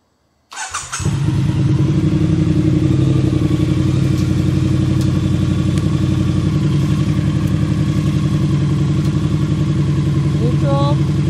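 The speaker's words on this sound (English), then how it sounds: "Let me start it up. The Triumph requires you to put the clutch in." A Triumph motorcycle engine cranks and catches, then settles into a loud, steady, rumbling idle that carries on close by for about ten seconds, with a brief voice near the end.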